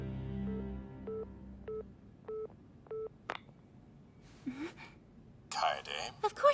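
Touch-tone telephone dialing in an animated episode: a steady run of about six short, evenly spaced keypad beeps over a low hum, followed by breathy gasps and sharper noises near the end.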